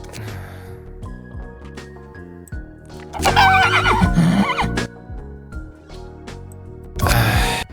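Horse neighs loudly in Library of Ruina, a long whinny with shaky rising and falling pitch over a steady game music bed, followed by a second short burst of neighing near the end.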